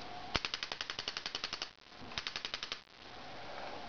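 A modified Spyder MR1 paintball marker fires full auto in two rapid strings of sharp, evenly spaced pops, a longer run followed by a shorter one, close and clear against a steady background hiss.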